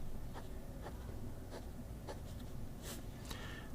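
A Graf von Faber-Castell Classic Pernambuco fountain pen with a wet fine nib writing on paper: a faint, steady scratchy scribble with a few short stroke accents, soft and close, with no voices.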